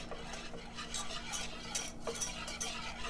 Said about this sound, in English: Give this a good whisk.